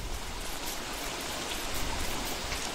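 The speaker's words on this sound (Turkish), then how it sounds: "yağmur yağıyor" Steady rain falling in the Don't Starve video game, a continuous broadband hiss of even intensity with no talk over it.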